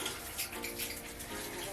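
Water poured thoroughly into the soil of a large potted Philodendron mamei, a faint continuous hissing trickle and splatter heard close and alone.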